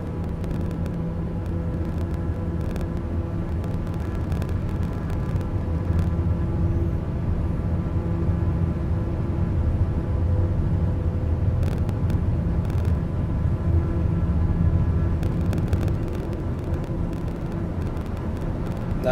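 Airliner takeoff roll in a flight simulator, Boeing 787 or A321: a steady, loud engine roar and rumble building for nearly twenty seconds with tonal hums layered on top, no talking.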